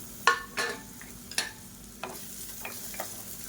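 Long-sliced onion and three garlic cloves frying in hot oil for a chutney, with scattered short sizzling bursts and stirring scrapes over a low steady hiss, close and fairly quiet.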